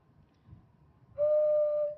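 After a moment of quiet, a single clear whistle tone starts and holds steady at a medium pitch, pure and sustained.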